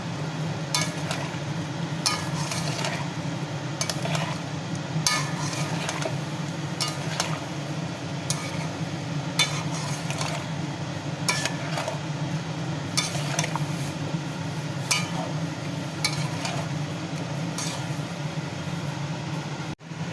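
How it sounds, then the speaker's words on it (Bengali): Continuous scraping and clinking of a spatula stirring pumpkin, potato and pointed gourd curry in a pan, steady and close with repeated metallic taps, no talking. "এবার এটা আমি ভালো করে কষবো"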